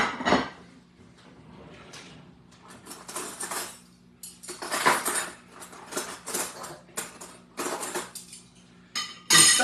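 Plates and cutlery clink and clatter in a home kitchen during cooking, with irregular bursts of scraping and chinking close by over a faint steady hum.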